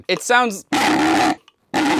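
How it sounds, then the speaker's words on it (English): An old, malfunctioning WW1-era Klaxon 10 chemical hand siren gives a harsh, raspy, growling blare in two bursts, one longer and one cut off. Someone speaks briefly just before it. "This is a Klaxon 10 chemical siren"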